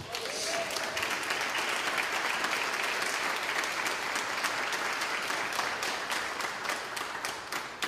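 A church congregation claps in worship for Jesus, loud, continuous clapping from many hands lasting the whole stretch.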